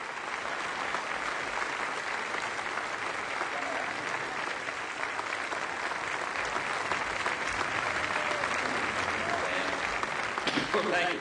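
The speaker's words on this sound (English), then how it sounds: "And Barbara's now asking for a standing ovation" A large audience gives a standing ovation at a presidential library anniversary celebration, steady dense applause sustained throughout, with voices faintly underneath.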